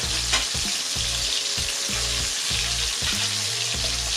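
Ox tongue fries in a pan, sizzling steadily up close. Regular stirring or turning strokes break into the sizzle about every half second, and no one speaks.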